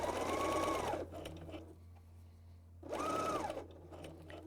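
A BERNINA L 660 overlock sews a stretchy seam in two short bursts of fast, rattling stitching separated by a quiet pause, close and clear with no voices.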